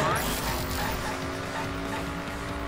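A car driving in the Danganronpa V3 video game, its steady engine drone running throughout with brief tire-squeal-like edges near the start, fairly loud and continuous.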